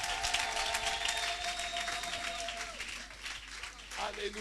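A church congregation applauds, sustained dense clapping from many hands filling the room, with a voice and a tonal hum carrying over the applause throughout.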